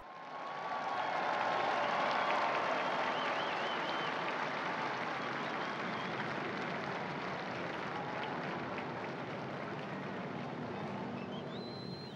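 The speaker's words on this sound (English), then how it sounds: "We join the crowds as they applaud and welcome the Holy Father" Large crowd in St. Peter's Square applauding as Pope Francis appears for the Sunday Angelus prayer, a dense sustained wash of clapping from many distant hands that holds steady throughout.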